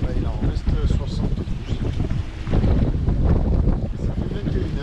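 Strong wind roars across the microphone aboard a sailboat crossing at sea in an 18–20 knot breeze, a continuous, loud, low buffeting rumble with surging gusts and no clear voices.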